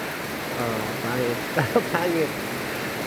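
Rain falls steadily as a soft continuous hiss outdoors around a house, with a person speaking briefly over it near the end.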